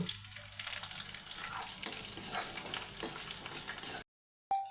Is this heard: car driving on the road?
no